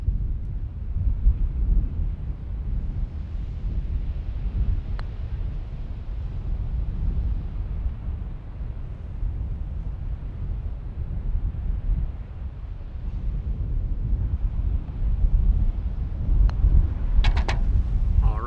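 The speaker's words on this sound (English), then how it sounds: "The winds are gusting." Gusting wind buffeting the microphone on a golf course during a trip through Nevada and Utah, a loud low rumbling roar that swells and eases continuously, with a few brief clicks near the end.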